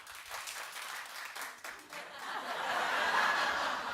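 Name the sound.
studio audience clapping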